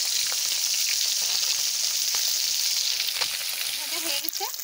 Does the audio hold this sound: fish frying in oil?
yes